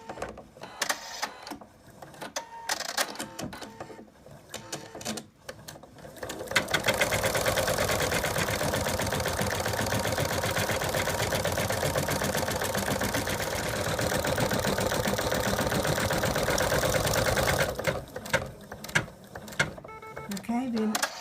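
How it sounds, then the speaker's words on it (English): An embroidery machine stitches a fabric placement line for an in-the-hoop dog design, running as a steady, loud, even whir for about ten seconds, with a voice and handling sounds before and after the run. "the first color stitch out is going to be the placement line for the fabric"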